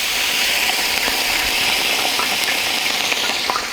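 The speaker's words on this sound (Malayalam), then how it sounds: "ഇഞ്ചി വെളുത്തുള്ളി നല്ലോണം മൂത്ത് വന്നിട്ടുണ്ട്." Crushed ginger and garlic frying in hot coconut oil, giving a loud continuous sizzle with scattered pops and faint stirring clicks, heard close and without speech.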